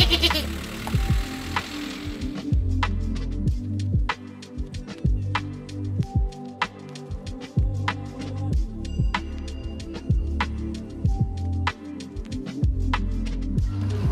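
Goats bleating close by in a vehicle before a mountain hike, with repeated wavering calls overlapping a steady engine hum and low rumble throughout.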